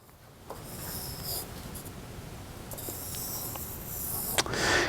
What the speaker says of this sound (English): you find the center point on a piece of paper, draw a circle